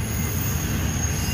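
A train rumbles past near a hiking trail on the Appalachian Trail, a steady low rolling roar with a faint high whine of wheels, continuous and fairly loud with no voices.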